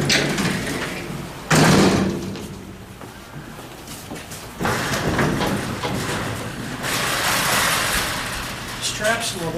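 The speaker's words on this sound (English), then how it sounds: "See how this outside door works." Outside door of a freight elevator being slid by hand, with a rumbling, scraping slide and a sharp clunk of the door, over background noise and people talking.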